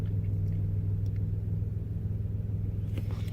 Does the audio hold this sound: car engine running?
yes